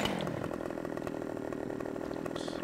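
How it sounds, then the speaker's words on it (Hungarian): A chainsaw in the video game Farming Simulator 15 cuts through a log, its engine buzzing loud and steady for the whole stretch with no pause. "Kapjuk elő a láncfűrésztet."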